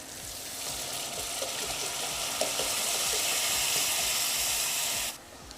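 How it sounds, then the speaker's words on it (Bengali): Water is poured into spice paste frying in oil for a rohu fish kalia, giving a steady, loud sizzling hiss that holds for about five seconds before cutting off abruptly. "এরকম অবস্থায় এবার আমি মশলার মধ্যে দিয়ে দেব জল"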